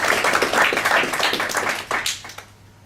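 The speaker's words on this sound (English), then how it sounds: "That definitely deserves an ooh and a round of applause." An audience at a Preston Raspberry Jam meetup claps in a brisk, ragged round of applause that holds strong for a couple of seconds, then thins into a few scattered claps and fades out.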